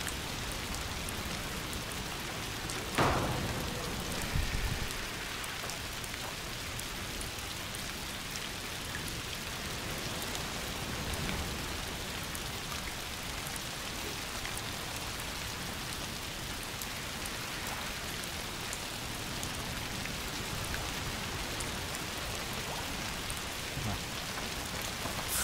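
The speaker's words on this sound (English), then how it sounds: "Foul rain." Heavy rain pours steadily in the video game A Plague Tale: Requiem, a dense continuous hiss of drops with a brief louder splash or thud early on and no speech.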